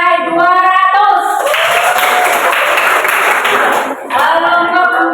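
A classroom of trainees at a PPG teacher training session at Universitas Tanjungpura bursts into loud, close clapping for a few seconds, with a voice talking before and after.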